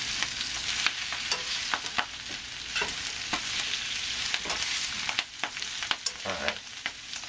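Vegetables and mandarin oranges sizzle in a hot pan while a spoon stirs and scrapes them, with steady frying hiss and irregular clinks and scuffs throughout, close and moderately loud.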